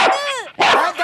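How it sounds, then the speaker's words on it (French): A robot dog barks loudly through car speakers, two long warbling synthetic barks in quick succession, near and harsh with a brief gap between them. "Je n'arrive pas à comprendre pourquoi tu le fais aboyer aussi fort."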